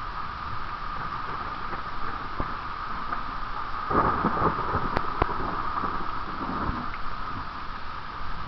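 Thunder rumbles through a heavy, backbuilding thunderstorm with intense lightning, a dense steady roar of storm noise and rain with a few sharper cracks, loud and continuous, no voices.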